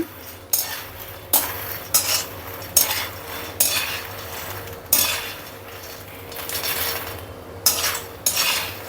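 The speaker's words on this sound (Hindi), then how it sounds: "बिल्कुल धीमी आंच कर रखी है, धीरे धीरे इसको चलाते रहना।" A metal spoon stirs food slowly in a pan over low heat, sharp clinks and scrapes recurring roughly every second against the cookware, close and clear with no talking.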